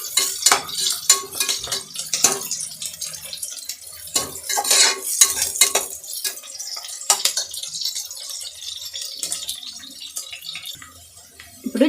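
Onion and green chillies fry in a pan while a metal spoon scrapes and clinks against it, giving irregular stirring knocks over a soft sizzle, close with no voices.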